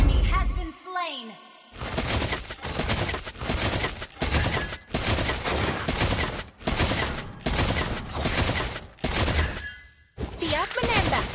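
Bursts of rapid gunfire from the mobile game Mobile Legends Bang Bang come in repeated volleys separated by short gaps, loud and close, mixed with game effects and an announcer voice.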